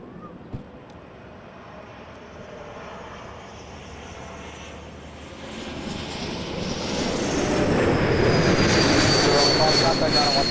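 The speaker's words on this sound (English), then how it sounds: "Embraer 195 coming in from Phoenix" An Embraer 195 airliner lands at Toronto Pearson Airport at night, its engine roar swelling from a distant rumble to a loud, whining approach, with faint radio voices beneath.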